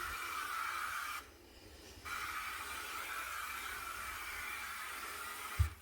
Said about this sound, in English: I'm just going to spray the outside of these cupboards